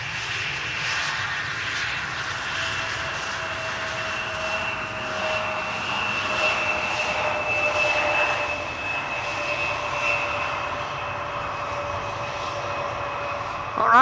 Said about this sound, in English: recently delivered MAX 9 from Corendon is arriving from Kos